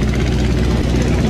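A cargo boat's engine runs loud and close in a dense, throbbing low drone with a steady mechanical pulse, continuous for the short moment without voices.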